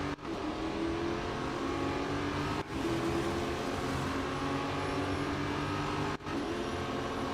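Race cars in the Real Racing 3 video game accelerate as a pack, giving a steady, loud engine drone broken by a few brief dropouts.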